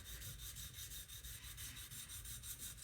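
Steel sword blade bevel ground on a coarse sharpening stone, worked diagonally near the tip; a steady, close rasping rub with faint rhythmic strokes continuing throughout.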